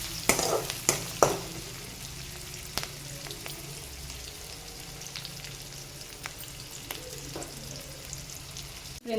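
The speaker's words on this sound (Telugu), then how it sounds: "ఇందులోకి కట్ చేసి పెట్టుకున్న ఆనియన్స్, పచ్చిమిరపకాయలు వేస్తున్నానండి. ఇంకోసారి కలుపుకోండి." Chopped onions and green chillies for a paneer curry fry quietly in a pan, with a soft sizzle and several sharp clicks and scrapes as they are stirred.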